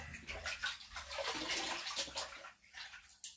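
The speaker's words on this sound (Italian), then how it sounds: "mettiamo il cappello in acqua, via." A hat splashes and sloshes in bathtub water, with choppy, close-up washing noise in uneven bursts.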